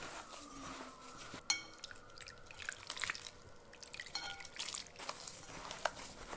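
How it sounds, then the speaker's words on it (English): Water trickles and drips gradually into a bowl of Maseca corn masa dough for quesadilla hot dogs, a quiet, uneven pouring and dribbling with small clinks of the bowl close by, and nobody speaking. "go ahead and gradually add your water, and we're just going to keep combining until we have our dough nice and hydrated"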